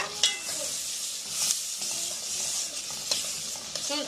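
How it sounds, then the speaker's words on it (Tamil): Chopped tomatoes added to frying onions in a pan for paneer butter masala crackle in a steady, close sizzle, with scraping stir strokes every second or so and no talking. "வெங்காயம் நல்லா ஃப்ரை ஆகிட்டுங்க சின்ன சின்ன சின்ன சின்னதாக வெட்டி வச்சுருக்கிற தக்காளி பழத்தை போட்டுக்கோங்க"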